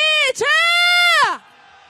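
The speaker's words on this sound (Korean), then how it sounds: "함성" A loud, sustained rising cheer from a street protest march of candlelight demonstrators in Korea, one strong voice carrying the shout over about a second, then cutting off into quiet background murmur.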